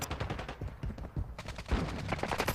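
First-person shooter video game gunfire, a rapid burst of loud, closely spaced shots with brief gaps and a heavier blast near the end, heard alone without talk.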